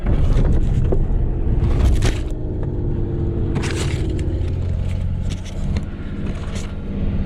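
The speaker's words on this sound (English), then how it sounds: "Clutch in, first gear. And we're gonna give it a pop." A Ford Ranger pre-runner truck engine, bump-started in first gear while rolling downhill, catches and rumbles roughly, with heavy low-frequency drone, a few knocks and some wind noise.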